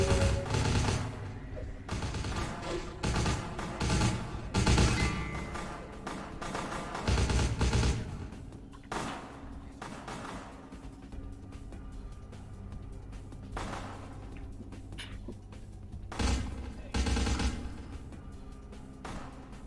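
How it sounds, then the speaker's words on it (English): Gunfire erupts in a shootout in Vampire: The Masquerade - Bloodlines, with bursts of rapid shots and volleys repeating across the scene, loud and close over a steady background of game music and ambience. "they're gonna start shooting now"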